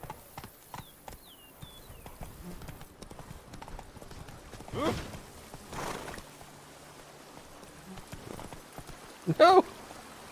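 Hooves of Roach, a horse in The Witcher 3, clip-clop in scattered steps within a game scene, with a few sharper outbursts and a brief whinny-like cry near the end, at low level.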